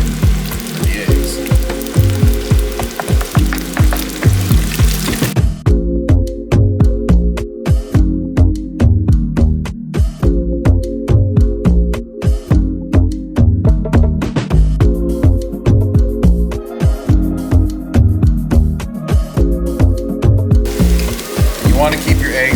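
Eggs seasoned with salt and pepper frying in a pan for Singapore noodles, loud pulsing sizzle with repeated scraping and tapping from stirring, the sizzle dropping away briefly between bursts.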